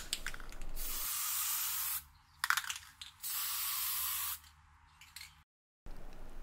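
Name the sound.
spray can applying primer coats to brake calipers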